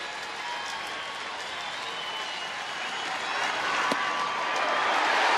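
Baseball crowd at a Seattle at Texas game gives a sustained ovation, steady applause and cheering filling the stadium and swelling slightly louder toward the end.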